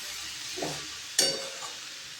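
Shredded cabbage with chana dal stirred and sautéed in a wok, with soft scraping and a low steady sizzle, plus a couple of sharper clinks from the spoon against the pan.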